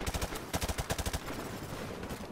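Gunfire in Call of Duty Modern Warfare Remastered, a rapid automatic burst of evenly spaced shots up close, followed by a denser, more distant rattle of fire fading into a steady wash.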